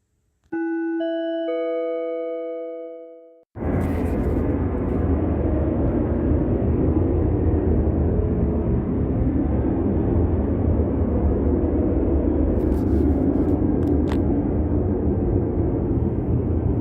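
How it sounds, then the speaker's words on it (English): After a bright, fading chime, a steady, unbroken roar like airplanes flying overhead fills the rest of the clip, with a few faint clicks near the end. "the sound of plane activity"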